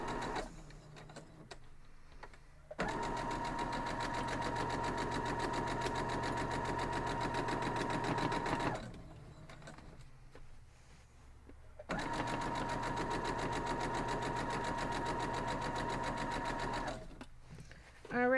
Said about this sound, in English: So let's go over to the sewing machine.